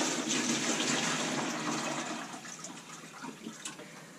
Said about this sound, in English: And fill it full of water.